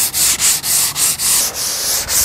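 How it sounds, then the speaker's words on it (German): Sandpaper is worked back and forth over a wooden window frame, producing loud, close, rhythmic scratchy strokes, roughly four per second, with no talking. "Beim Schleifen solltet ihr natürlich auch die Runden und die Ecken nicht vergessen."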